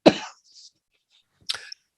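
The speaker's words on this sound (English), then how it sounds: "I'm going to have to cough from time to time here." Two short coughs from a man, the first a sharp close burst followed by a fainter echo-like tail, then a second softer cough after a brief pause, in a quiet room.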